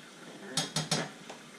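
Three quick metallic clinks of a spoon scooping heaping tablespoons of cocoa powder from a container, close and crisp in a quiet kitchen, followed by a fainter fourth tap.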